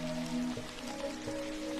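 Gentle rain falls steadily outside a cafe, a soft continuous patter of drops with a low, even hiss throughout.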